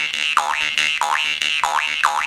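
A twangy jaw harp plays a repeating pattern, the tongue slapping downward with slight inward suction, its bright tone bending down and back up in regular wah-like sweeps with sharp percussive attacks.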